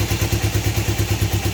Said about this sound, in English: if I start the bike up now,